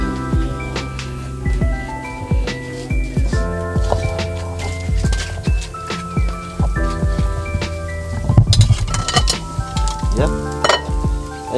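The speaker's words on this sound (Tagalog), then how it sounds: "kumukulo na po" Pork sinigang soup bubbling and sizzling steadily in a pot, with scattered clinks of a utensil against the pot throughout.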